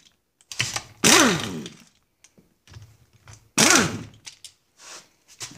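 An impact wrench on a long extension removing powerhead bolts from a Johnson 9.5 HP outboard motor, heard as two loud, rattling bursts of about a second each, with softer clanks and tool handling between them, and no talking.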